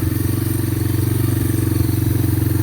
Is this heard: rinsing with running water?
no